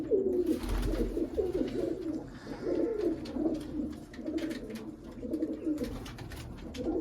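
Black pigeons kept as breeding birds in a loft coo continuously, several soft rolling calls overlapping nearby, with faint background rustle and no speech.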